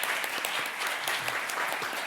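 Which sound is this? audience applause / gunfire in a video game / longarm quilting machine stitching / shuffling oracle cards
audience applause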